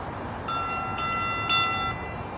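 Phoenix Valley Metro light rail train heard from the platform, a steady rolling rumble with a sustained tonal whistle or horn lasting over a second, moderately near.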